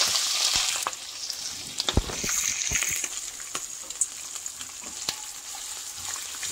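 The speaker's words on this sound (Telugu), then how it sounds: "వేసుకొని మంచిగా ఫ్రై చేసుకోవాలి." Long-cut ivy gourd (dondakaya) pieces fry in a pan with a steady, bright sizzle, punctuated by a few sharp clacks of stirring against the pan, with no voices.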